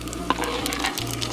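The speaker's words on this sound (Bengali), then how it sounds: "বন্ধুরা দিয়ে দিচ্ছি একটু শুকনো লঙ্কা ফোড়ন" Dried red chillies crackle and sizzle as they hit hot oil for tempering over fried potatoes, a steady frying hiss with a few sharp pops and a low hum underneath.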